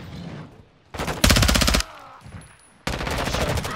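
Loud, close automatic gunfire from Call of Duty: Modern Warfare 2, with a rapid machine-gun burst, a quieter lull, then another sustained volley of shots.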